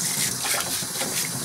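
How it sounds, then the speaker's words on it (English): Tap water runs steadily in a continuous broadband rush while the bore of a clarinet body is cleaned with brushes, with no talking. "I'm going to turn on the water, clean out the bore of the instrument."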